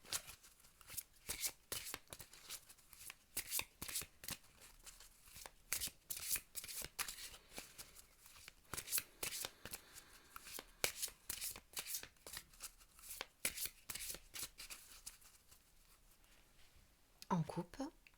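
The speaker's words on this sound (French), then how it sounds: "je cesse de vous parler pendant que je les mélange" Playing cards are shuffled over and over at close range, a quiet run of crisp riffling bursts and soft slides with brief pauses between them.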